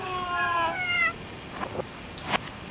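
Cats in a house meow: one long, clear, rising cry close by, followed by a few shorter, fainter meows; no one speaks.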